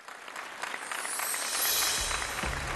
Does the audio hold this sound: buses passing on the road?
no